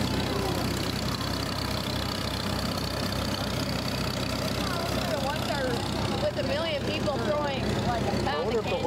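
An old stationary engine fitted with a side-mounted magneto runs steadily at a town show, a continuous mid-low drone that carries through the whole stretch under crowd noise and voices.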